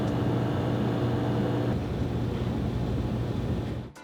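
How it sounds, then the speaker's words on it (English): A steady low hum from a plugged-in refrigerator fills the background, constant and droning, with a slight change partway through before fading at the end. "a refrigerator makes a low hum when it's plugged in"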